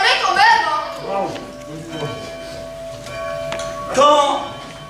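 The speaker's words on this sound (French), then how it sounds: "Les cloches!" Church bells ring at a snowy wedding, sustained tones sounding faintly under a person speaking.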